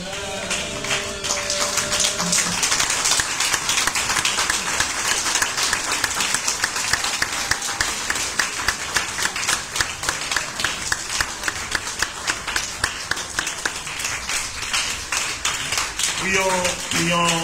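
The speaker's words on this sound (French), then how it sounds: "levons-nous et applaudissons nos mamans encore une dernière fois" A church congregation on its feet applauds mothers in long, vigorous, loud clapping that keeps up evenly for over fifteen seconds, with a voice speaking briefly at the start and end.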